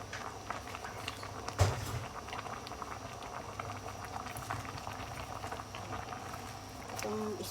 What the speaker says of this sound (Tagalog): diba kumulo na siya